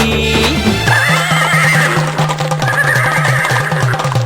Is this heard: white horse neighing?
yes